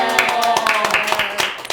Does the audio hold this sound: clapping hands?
yes